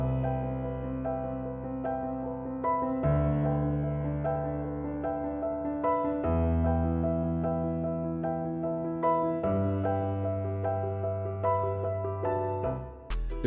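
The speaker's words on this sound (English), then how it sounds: "The first thing we started with was a piano" Sustained piano chords from the Giant piano plugin in an uptempo trap beat, changing roughly every three seconds with rich low notes, played alone with nothing else over them.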